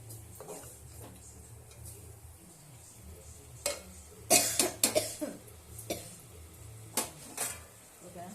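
Metal spoon stirring and scraping food in a pot, intermittent clinks and scrapes that sharpen into a few louder clattering knocks, with low background hum and a cough.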